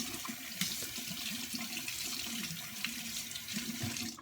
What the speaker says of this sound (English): Run it underwater. You could take this cartridge out and run that underwater.